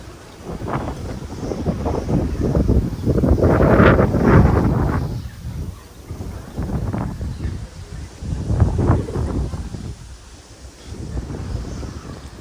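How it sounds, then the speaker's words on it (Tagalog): Strong outdoor wind gusting and buffeting a microphone in waves, loud and broadband with surges and lulls, ahead of an approaching rainstorm in Bayambang, Pangasinan. "Sobrang lakas ng hangin."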